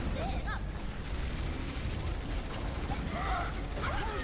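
Bombs go off in a video game match, a dense, continuous barrage of explosions and gunfire-like bursts filling the whole moment at loud volume, with a commentator's voice talking over it.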